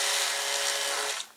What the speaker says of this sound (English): and tighten up your drill until it locks